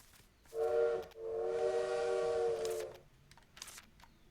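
A bird in the game Little Witch in the Woods mimics a train whistle, giving two sustained harmonic whistle blasts, a short one and then a longer held tone, with faint clicks around them and no talking.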